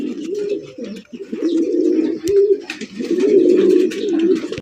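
Pigeons at a pigeon breeding farm coo close by in loud, overlapping, throaty rolls that continue almost without pause. No one speaks.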